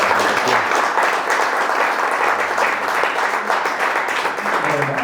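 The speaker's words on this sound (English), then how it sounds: "Can we give him a big round of applause?" An audience claps in a sustained round of applause at the close of a storytelling talk at The Trailhead in Buena Vista, Colorado, steady and fairly loud throughout.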